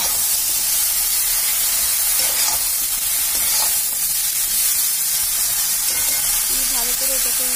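Ridge gourd frying in a pan with mustard and poppy seed paste, a steady loud sizzle and hiss with occasional stirring scrapes, close by.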